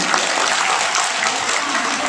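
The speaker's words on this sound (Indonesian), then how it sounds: "Tepuk tangan dulu dong buat bupati kita." Audience applause for a regent at an Islamic sermon gathering, a dense, steady wash of many hands clapping, loud and continuous throughout.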